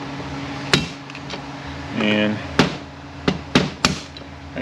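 Sharp metallic hammer strikes on a screwdriver against a ZF6HP28 automatic transmission part during a recase, four or five separate taps with a brief clinking scrape between, close and loud, with a short spoken word.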